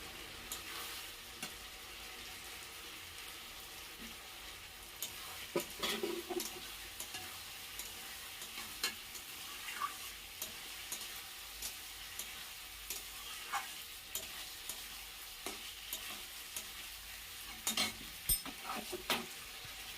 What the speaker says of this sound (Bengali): ফুলকপিটা দিয়ে আবার কষাবো